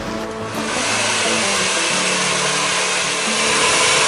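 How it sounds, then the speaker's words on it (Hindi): A hair dryer runs continuously, a loud, steady whooshing roar of blown air with a slight motor hum, close by and unbroken throughout. "बहुत बार हम गीले बालों में हेयर ड्रायर यूज़ करते हैं।"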